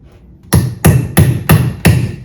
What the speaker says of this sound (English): put it over there, and hit it with a hammer